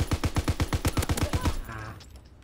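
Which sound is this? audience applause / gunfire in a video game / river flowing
gunfire in a video game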